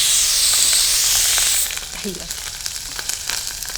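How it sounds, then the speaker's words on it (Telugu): Mustard seeds, cumin and green chilies hit hot oil with a loud, steady sizzling hiss that drops to a softer crackle after a moment, with faint voices underneath. "పోపు పెట్టేసుకుందాం ఒకేసారి ఒకేసారి పోపు పెట్టేసి"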